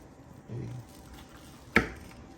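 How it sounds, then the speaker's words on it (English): A sharp knife slices into a cream-cheese-stuffed jalapeño popper: a soft squish followed by one crisp, brief cutting crunch, close and quiet with no talk. "let's cut into one of these real quick. A nice little sharp knife."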